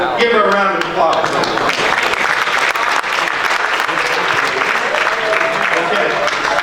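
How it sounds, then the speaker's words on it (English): A magic show audience in Cancun applauds a volunteer returning to her seat, with dense, steady clapping that fills the whole stretch at close range and a few voices mixed into the crowd noise. "Give her a round of applause"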